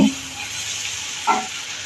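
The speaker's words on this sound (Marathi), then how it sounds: "कांदा अर्धवट परतून होता आला की आता मी त्याच्यात लसूण टाकणार आहे ठेचलेला लसूण" Crushed garlic hits a pan of half-fried onion, giving a steady loud sizzle and crackle close by, with a brief flare of hissing partway through.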